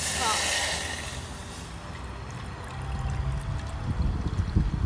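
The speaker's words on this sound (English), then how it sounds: "So put the water in to the pot." Water pours into a cooking pot for boiling a store-bought crab, a close splashing gush at first that tapers to a trickle, followed by clattering handling sounds.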